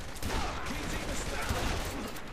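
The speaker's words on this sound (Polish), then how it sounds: "Poszczelam do nich, bo oni też do mnie strzelają" Continuous gunfire in the video game Saints Row, a dense, steady barrage of shots with a rough volley texture running the whole time under faint talk.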